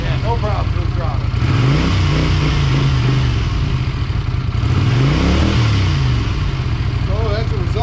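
A 1982 Honda Silver Wing GL500 motorcycle engine revs twice close by, each throttle blip climbing and falling over a rough idle.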